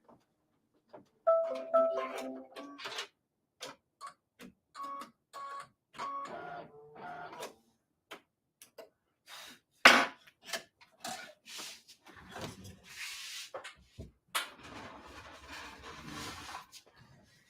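An embroidery machine stitches a Believe wall hanging, its needle running in quick mechanical bursts and short rhythmic runs separated by pauses, moderately close in a quiet room.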